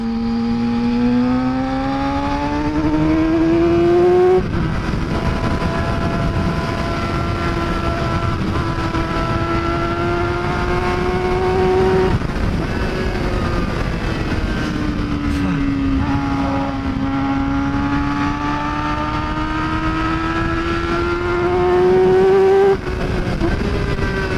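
A Yamaha R6 motorcycle being ridden, its engine droning steadily up close with smooth rising and falling revs and a couple of gear-change dips, under wind rush throughout.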